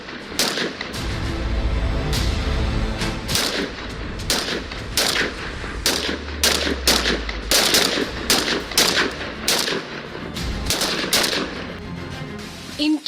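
Rifles fire during shooting practice, a rapid series of loud sharp reports, some single and some in quick bursts, with a few overlapping shots and no talking.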